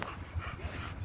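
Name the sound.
dog whimpering at a dog park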